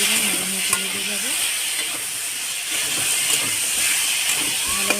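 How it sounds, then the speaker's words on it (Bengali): A spiced base for a fish curry is stirred and sautéed in oil in a pan, with a steady sizzling hiss and intermittent scraping of the spoon throughout. "এটাকে নেড়ে চেড়ে ভালোভাবে কষিয়ে তেলটা কমিয়ে দিলাম"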